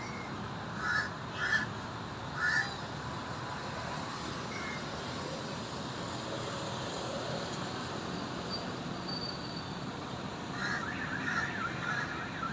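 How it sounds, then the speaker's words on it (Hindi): Crows cawing outdoors among other birds: a few distant, harsh calls in a short cluster near the start, then more faint caws later over a quiet, steady outdoor background. "परिंदों की आवाज़ें सुन रहे हैं अल्हम्दुलिल्लाह।"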